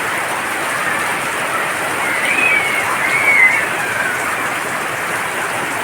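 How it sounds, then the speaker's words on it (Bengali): Steady rain falls in a continuous, even broadband hiss that holds at a constant level throughout, with no voices and only slight swells in intensity near the middle. "বৃষ্টি রহমতের মধ্যে অন্যতম একটি"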